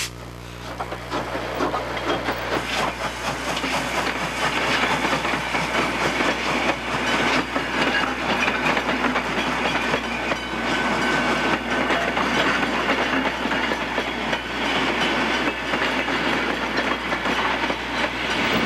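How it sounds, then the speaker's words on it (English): A Victorian J-Class 515 steam locomotive rolls along the rails with a continuous rumble and rhythmic clickety-clack of wheels, heard loud and close for the whole stretch. "accompanied to Melbourne by the Victorian J-Class 515 with its distinctive red smoke-deflecting plates"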